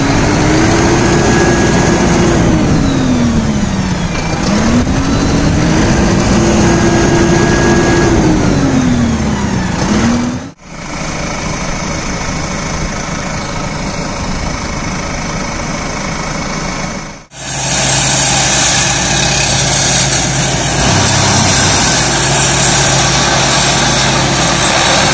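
A Deutz-Fahr Agrolux 80 Profiline CRDI tractor with a TREM IV engine runs steadily and loudly close by, its note rising and falling in pitch twice early on, with two brief dips in level.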